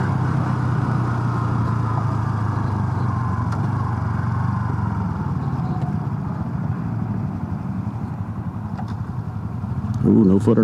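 A Honda Super Cub motorcycle is ridden nearby, its small engine giving a steady, loud drone that eases slightly in pitch, then rises again at the very end, with no voices.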